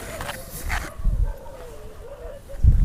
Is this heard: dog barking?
yes